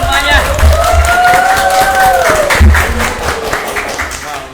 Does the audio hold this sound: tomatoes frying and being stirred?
no